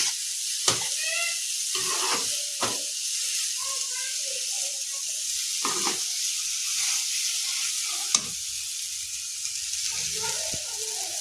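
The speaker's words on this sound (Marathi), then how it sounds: "व त्याला फ्राय करून घेऊया व आता याला अशी फिरवून घेऊया." Ingredients for green tomato chutney frying and being stirred in a pan: a steady sizzling hiss runs throughout, broken by scraping clinks and stirring knocks, while a voice talks intermittently over it.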